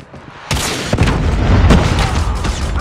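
A predator missile strikes in Call of Duty Mobile with a sudden loud boom that rolls into a sustained rumbling blast, accompanied by a couple of sharper secondary bangs.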